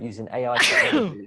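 A single sneeze bursts out mid-sentence, close and fairly loud, overlapping a person talking.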